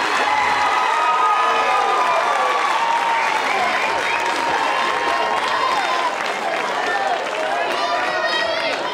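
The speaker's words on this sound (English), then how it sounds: "That gets the crowd on their feet here at the ballpark at Jane B." A college softball crowd at the ballpark at Jane B. Moore cheers, shouts and applauds continuously after a one-out triple in the Mercer vs Auburn game, with excited voices rising throughout.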